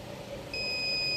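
A multimeter set to buzzer mode emits a steady high electronic tone as its probes touch a Mate 10 Lite phone ringer, starting partway through and holding on over faint background hiss.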